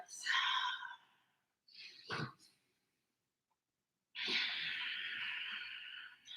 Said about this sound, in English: Breathing loudly, Ujjayi breath.